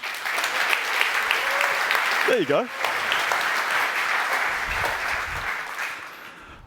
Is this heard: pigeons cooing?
no